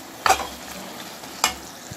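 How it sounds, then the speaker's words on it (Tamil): A spoon stirs fish gravy masala frying in a pan, two quick scraping strokes over a steady low sizzle. "ஓகே, இப்போ ஒரு லைட்டாக வந்து ஒரு கிண்டு கிண்டு கிண்டி விட்டுட்டா."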